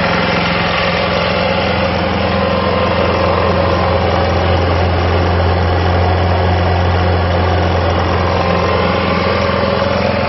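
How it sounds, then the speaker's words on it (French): Portable generator running steadily from the exhaust side, a loud, constant engine drone with a low hum that holds unbroken for the whole stretch, close up and with no voices. "là je me mets exprès du côté pour l'échappement pour que vous voyez un peu ce que ça donne au niveau bruit"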